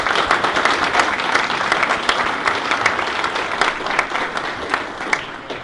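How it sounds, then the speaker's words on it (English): At a celebration event, an audience applauds in a loud, full burst of clapping that holds steady and then eases slightly toward the end, with no speech over it. "So let's give them a round of applause."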